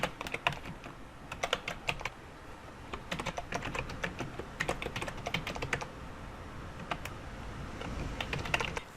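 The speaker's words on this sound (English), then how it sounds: "although we could simply type in straight text" Steady typing on a computer keyboard, a rapid irregular clatter of close, crisp key clicks that runs throughout with no voices.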